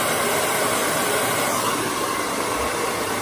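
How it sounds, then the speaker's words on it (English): A hair dryer blows steadily and loudly, close by, while hair is dried with a round brush, a continuous airy roar with no pauses. "And I'm going to blow dry underneath."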